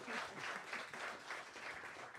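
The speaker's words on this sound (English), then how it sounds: "I would like to give a round of applause one more time for Keisha McKee" Jazz audience applause at a NOCCA Jazz Department session, a steady wash of many hands clapping, fairly faint and distant throughout.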